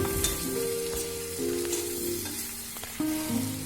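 Chicken masala, cooked through and spicy, roasting in a pan for a final minute. It gives a continuous, moderately loud sizzle with intermittent stirring scrapes and a faint background tone, and no one speaks.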